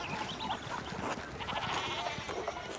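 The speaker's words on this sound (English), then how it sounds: "Small square filled with sheep." Sheep bleating in a small town square in the video game Pentiment, several overlapping calls from a flock amid steady ambient background noise, with no talk.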